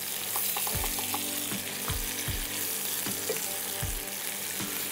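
Ridge gourd frying in a pan for a Bengali fish curry with drumsticks: a steady, close sizzle runs throughout, broken by repeated low knocks and scrapes of a spoon stirring against the pan.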